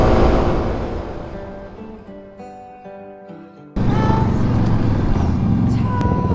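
Kawasaki KLX250 dirt bike being ridden, its engine note falling away as the rider eases off, then snapping back to a loud, rough drone with wind rush as the throttle opens again.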